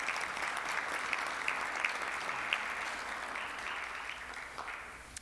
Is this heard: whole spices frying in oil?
no